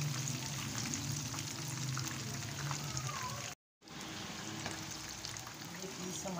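Chicken pieces coated in rice flour frying in oil, a continuous crackling sizzle that briefly cuts out to silence midway and then resumes at the same steady level.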